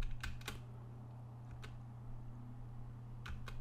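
A few quick keystrokes and an enter press on a computer keyboard during a Kali Linux VMware Tools install, the light clicks close against a steady fan hum.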